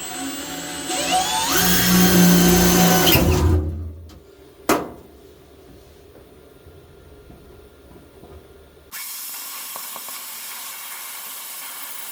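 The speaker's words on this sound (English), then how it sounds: "I gotta drill a little pilot hole so I have something to start" A loud, whining power drill bores a pilot hole in metal for a couple of seconds and then stops, followed by a sharp clank and a quiet stretch before a steady hiss.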